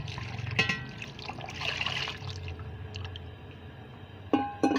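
Water is poured into a cooking pot of meat for Eid gosht, a close, uneven splashing and trickle with a few clinks of a glass or pot at the start and end.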